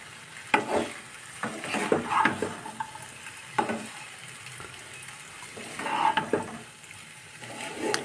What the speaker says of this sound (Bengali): দিয়ে হালকা হাতে এটাকে কিন্তু জাস্ট মিক্সড করে নেব